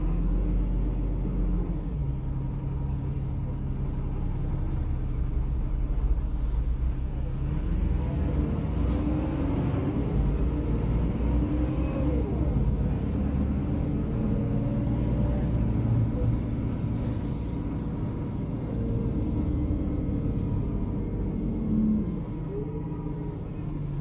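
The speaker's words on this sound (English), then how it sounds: "When it's changing gears, you'll have a very whiny woo sound" An ADL Enviro300 bus with an older ZF Ecomat automatic transmission is driving under a steady low engine rumble. A whiny tone rises and drops as it shifts through the gears.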